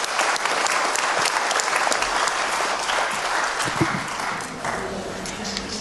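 An audience at a church baptism service gives sustained, dense applause, steady and full throughout with a faint murmur of voices underneath.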